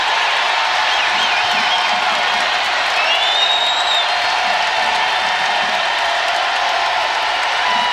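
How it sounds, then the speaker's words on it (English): A basketball arena crowd at an NCAA women's tournament game roars and cheers in a continuous loud wash of noise, with whistles and shouts rising above it. "Listen to this place roar."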